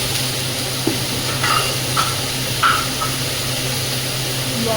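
Ridge gourd and potato sautéing in a pan, a steady hiss of frying with a few faint clicks and scrapes of stirring, fairly loud and even with no talking.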